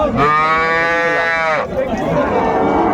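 A cow at a cattle market, with her calf, lets out one loud, drawn-out moo close by, followed by low market chatter and background noise.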